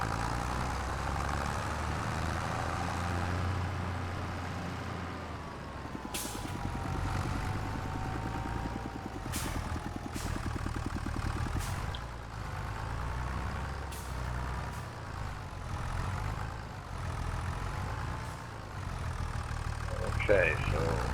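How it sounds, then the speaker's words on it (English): An old tractor engine in the farming game Farming Simulator 25 drones steadily at low pitch for the whole stretch, with occasional faint clicks on top and a person talking over it. "Little old tractor made it."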